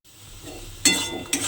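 A spoon scrapes and clinks against a pan while chili powder and spices are stirred together, soft background noise with two sharper clinks near the end, no voices.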